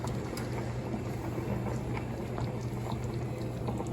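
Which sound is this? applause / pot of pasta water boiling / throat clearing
pot of pasta water boiling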